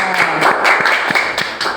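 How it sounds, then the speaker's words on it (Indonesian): A classroom full of students claps briefly after a group presentation, a dense, close patter of hand claps lasting under two seconds. "Ya, tepuk tangan."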